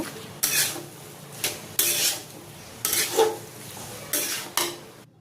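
A spoon scrapes in bursts through chopped cucumbers and salt in a pan, about five rough swishing strokes separated by short pauses, close and fairly loud with no voices.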